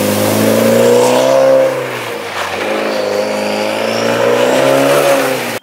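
A loud, modified Mitsubishi Lancer Evolution X engine revs hard and climbs in pitch, drops briefly as it shifts, then pulls strongly again, close and dominant.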